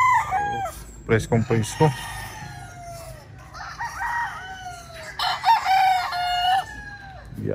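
Roosters at a gamefowl farm crow repeatedly, with long drawn-out calls overlapping near and farther away, mixed with clucks, while someone speaks briefly.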